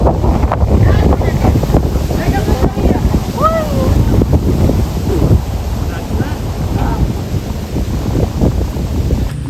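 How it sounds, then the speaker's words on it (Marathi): Strong wind blows across a hillside, buffeting the microphone in a constant rough roar, with faint voices underneath. "वारा बिरा सुटला"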